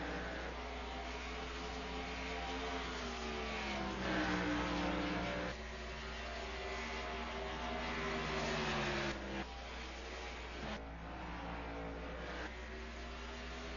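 Late model stock cars race around Bristol Motor Speedway, their engines a continuous droning roar heard from a distance, rising and falling as the pack circles, with no talk.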